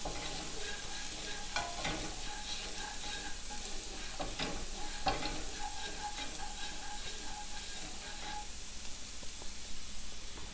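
Thinly sliced garlic sizzles and fries steadily in a pan while being stirred, with a constant close hiss and occasional scraping clicks from the stirring, no talk.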